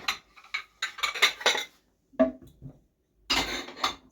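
Crockery and cutlery being put away in a home kitchen, with bursts of close clinks and clatters separated by short pauses.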